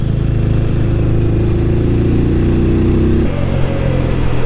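A TVS Apache RTR 200 4V motorcycle climbs a hairpin bend on the Dhimbam Ghat after a downshift, its engine droning loud and steady close by, the pitch shifting down near the end.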